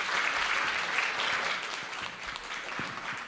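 Steady round of applause from a conference audience at a behavioral science event, dense clapping close and consistent in loudness, easing slightly midway, with no talking over it.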